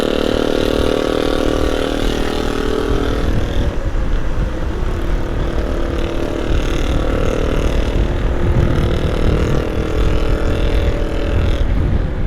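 A loud, steady engine roar close by, from a truck among heavy holiday homecoming traffic on a highway at night, droning continuously with rumbling low end and no talk.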